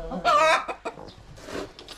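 A farmyard hen gives a few short clucks and squawks up close, with a person speaking intermittently around the calls.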